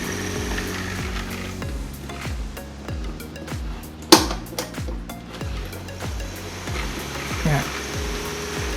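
Small electric fan powered through a 2 amp adapter, running with a steady motor hum and a repeating rhythmic ticking or clicking from the blades, close to the microphone, with a brief louder knock midway.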